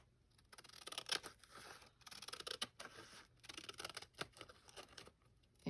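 Scissors snipping through paper on an envelope and journal craft project, a quiet run of crisp repeated cuts and rustling handling noises up close.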